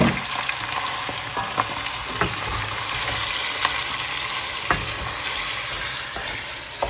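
Meat for homemade tantuni sizzles steadily in a hot pan, a dense continuous frying hiss broken by occasional clinks and scrapes as it is stirred, loud and close with no talking.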